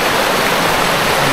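A forest river rushes in a steady, loud, dense wash of flowing water, close by and uninterrupted through the brief moment, with no voices.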